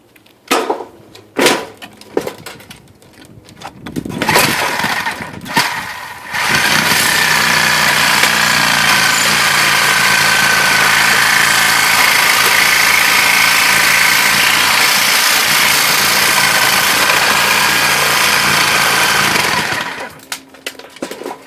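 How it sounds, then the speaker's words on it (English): A Sawzall reciprocating saw with a metal blade cuts out a window, starting with a few short bursts and then running in one long, loud, steady buzzing cut before stopping. "I'm sawzalling all that stuff out with a metal saw blade"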